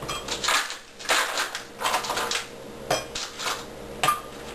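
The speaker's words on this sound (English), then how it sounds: "couple of ice cubes." Ice cubes dropped into a blender for a chocolate protein shake, knocking and clattering against the jar in about six separate bright, hard impacts, close and fairly loud with no talking.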